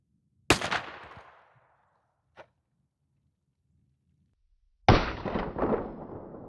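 An American Tactical .410 shotgun fires 2.5-inch 12-pellet BBB buckshot outdoors at water jugs: two loud, sharp blasts with ringing tails, separated by a faint click.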